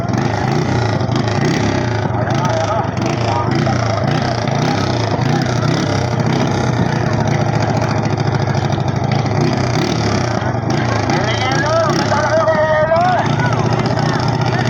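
A racing boat's engine running at a Mamatid boat race, a loud continuous drone that stays constant throughout, mixed with crowd noise and a talking voice.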